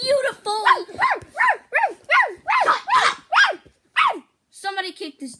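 A dog in a video game barks again and again in an even rhythm, loud and near, before a short break and one last whining yelp.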